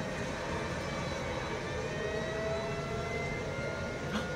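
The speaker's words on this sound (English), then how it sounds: "There's a helicopter." A helicopter flies overhead as a steady, continuous distant roar, with no talking over it.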